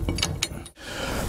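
A ratchet snaps through a few quick clicking strokes while bolting up a disc brake caliper bracket on a 1947-59 Chevy or GMC truck front disc brake conversion, loud and close, with a brief pause mid-way.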